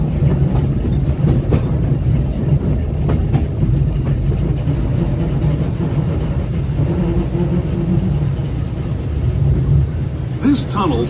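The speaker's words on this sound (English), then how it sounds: "Our next stop is Toontown Depot, official train station for Mickey's Toontown" The Disneyland Railroad train rolls along with a steady, loud rumble and clatter of wheels on track, heard from on board, with a narrator's voice speaking over the noise and a short squeal near the end.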